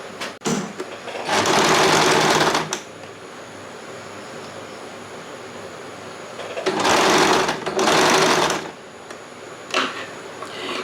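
A sewing machine stitches two dress pieces together in two steady, loud mechanical bursts of a couple of seconds each, separated by a quieter pause with light handling noise.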